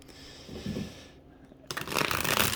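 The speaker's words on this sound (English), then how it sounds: "And now, one more shuffle." Tarot cards are shuffled close up, soft riffling first, then a louder, quicker flurry of papery flutter at the end.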